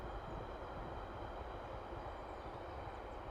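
A train rolls past beside a lake, a steady, dense rumble and rush of rail noise that holds evenly throughout with no voices.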